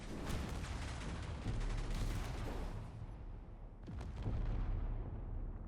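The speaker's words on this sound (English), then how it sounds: "Look at that immense firepower right there." Spinal beam laser weapons firing in the space game Space Engineers, with dense, roaring bursts of blasts and explosions hitting armor and reactors, loud and continuous, dipping briefly before surging again.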